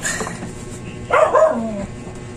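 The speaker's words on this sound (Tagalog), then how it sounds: "Aso." A single dog bark, a short sharp yelp that rises and falls, heard at moderate distance against a low background hum during an electric fan repair.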